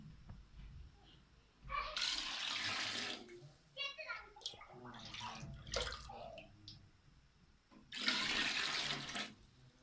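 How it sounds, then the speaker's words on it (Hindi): Water poured into a cooking pot of browned chicken and spices for chicken biryani, in two loud sustained bursts separated by clinking and handling of utensils, close by. "और अभी पानी डालेंगे।"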